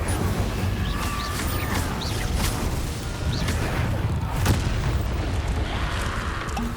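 Incendio fire spells blasting repeatedly in the video game Hogwarts Legacy on PS5, a dense, loud run of booming bursts and crackling impacts over a constant rumbling game soundscape.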